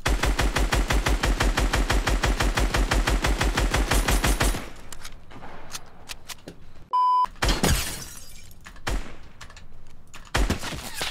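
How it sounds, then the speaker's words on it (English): An assault rifle in the video game Fortnite fires in a fast, loud, evenly spaced burst for about four seconds, followed by scattered game effects, a beep and a few isolated shots. "Sky's assault rifle. The fire rate is insanely fast."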